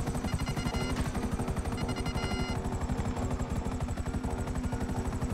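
A helicopter flies in the Grand Theft Auto video game, its rotor chopping in a fast, steady, unbroken pulse with a droning engine underneath and no voices.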